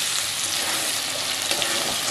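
Vegetables frying with turmeric in a hot pan, a dense, loud, continuous sizzle with faint stirring underneath.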